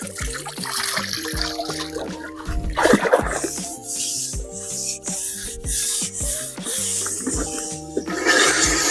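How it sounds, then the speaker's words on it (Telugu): Fresh water poured out on an outdoor firewood hearth, a trickling, splashing flow that swells and eases with clattering, knocking and rubbing handling noises around it, fairly close, with no voices. "తాజా నీళ్ళని అయితే పోసుకుందాం."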